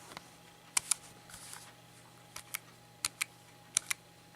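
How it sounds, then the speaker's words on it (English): Keys tapped on a Kensington M01007 USB keypad with built-in calculator, heard as quiet, crisp plastic clicks, mostly in quick pairs with short pauses between, close up over a faint steady hum. "we will type some things on this and have a listen to the keys"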